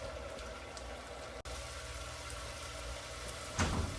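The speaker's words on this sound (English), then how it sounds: "let that simmer just a hair" Food for tacos simmers in a pan with a quiet, steady bubbling hiss that holds evenly from start to finish, alone with no talk.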